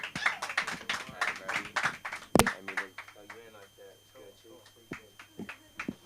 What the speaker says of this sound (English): So y'all go ahead and clap it up for your next person coming up to the stage.